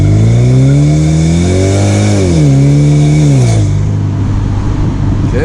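A BMW 1 Series E88 engine revs and accelerates under load while driving, its pitch climbing in steady sweeps and dipping between gears before settling into a broad, rougher road noise, loud and close throughout.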